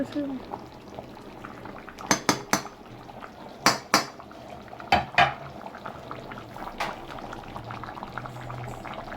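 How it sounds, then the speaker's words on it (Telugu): Curry bubbles at a steady simmer in a pot on a home stove, with a few sharp clinks of utensils and dishes standing out over the low, continuous boiling. "అయితే ఉడుకుతుంది"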